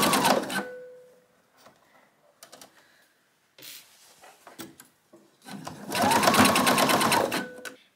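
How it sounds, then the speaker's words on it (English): Sewing machine basting long stitches around the edge of a tote bag, running in short loud bursts separated by pauses and handling rustles, ending in a longer sustained whirring run. "we're just going to quickly baste around the edge to keep it all in place"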